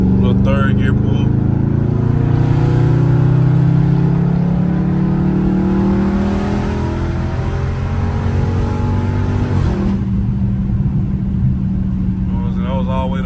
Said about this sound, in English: Little third gear pull.